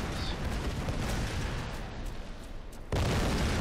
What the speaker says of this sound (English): Bust it all up with explosions.